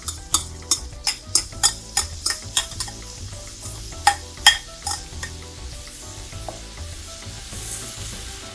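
Garlic fries with Kashmiri chilli powder for a prawn pickle. A rapid run of about nine sharp utensil knocks against the pan comes first, then a couple more, all over a low, close sizzle, with no voices.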